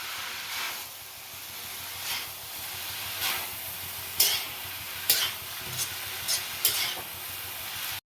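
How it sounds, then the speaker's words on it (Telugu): Noodles with black pepper and vegetables stirred in a hot pan, a steady sizzle and hiss broken by a few sharp scraping clacks of the utensil toward the end, close and fairly loud with no talking. "అన్నీ వేసుకునే తర్వాత మన నూడిల్స్ కలుపుకోవాలి"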